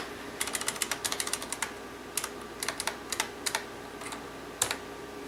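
Typing on a restored December 1989 IBM Model M keyboard with bolt-modded buckling springs comes in several quick bursts of sharp, clacky keystrokes separated by short pauses, close and alone with no talking.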